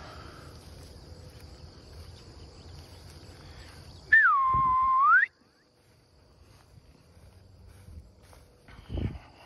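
A single loud, steady whistled note to move cattle on a ranch, with a slight rise at each end, lasting about a second, standing out over faint insect chirping and outdoor ambience.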